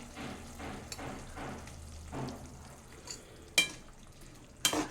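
Tamarind kara kuzhambu with mixed vegetables simmering in a pot, a soft steady bubbling and faint sizzle with a few sharp clinks of a spoon against the vessel near the end.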